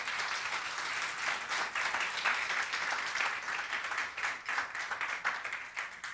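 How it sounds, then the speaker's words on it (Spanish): A church congregation applauds during a sermon, a steady wash of many hands clapping at moderate distance, continuous for several seconds with no talk over it. "Denle un aplauso al Señor por su cuerpo"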